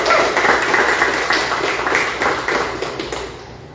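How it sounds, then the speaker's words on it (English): A crowd at a city small-business announcement claps in a round of applause, dense and steady at first and then thinning and fading toward the end. "I'm going to ask everyone please for a big round of applause for all of our partners."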